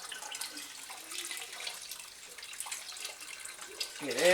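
Running water rinses out a homebrewing container for a Kölsch beer, a faint, steady, splashing flow close by, with a voice starting at the very end.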